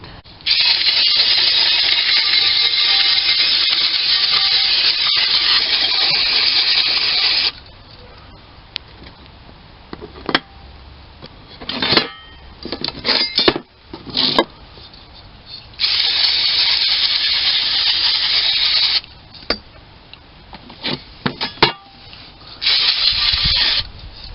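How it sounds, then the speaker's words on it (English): Long hissing bursts of aerosol brake cleaner spray, several seconds each, separated by quieter pauses with small clicks and handling noises. "spray them both down with brake cleaner"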